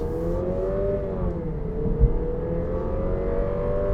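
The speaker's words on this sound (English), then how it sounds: "It is eager to rev out, I will give it that." 2020 Lexus IS 300 F Sport with its 2.0T turbo four-cylinder, revving steadily with a sustained engine drone whose pitch dips slightly and climbs again, close and fairly loud with no talking.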